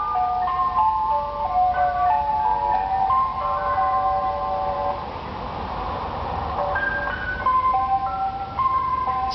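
An ice cream truck plays its tinny electronic jingle loudly and steadily, a repeating plinking melody heard close over a low rumbling background of traffic.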